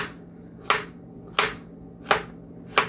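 A knife cuts zucchini squash into half-moon pieces on a cutting board: four crisp, evenly spaced chops, close and distinct, with near silence between strokes.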